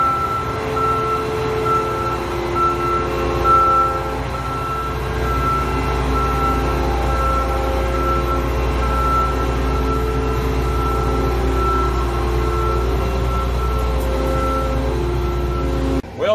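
Farm equipment backs out of a shed with a steady reversing beeper chirping over a deep, constant engine rumble, loud and close throughout, ending abruptly.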